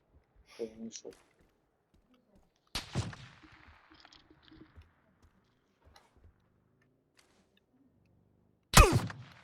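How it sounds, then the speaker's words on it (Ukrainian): Gunfire in the battle-royale shooter PUBG: BATTLEGROUNDS: two sharp, loud shot cracks, one near the three-second mark and a stronger one at the end, separated by quiet stretches with soft voices and game noises. "уже хтось вообще стріляє"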